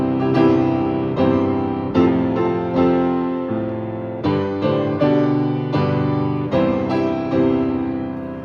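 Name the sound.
orchestra playing Gaudeamus Igitur from Brahms' Academic Festival Overture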